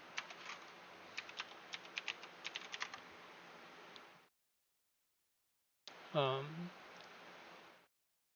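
Rapid clicking of keys on a computer keyboard runs steadily for about four seconds at close range, with no voice over it; after a pause, a brief different sound follows.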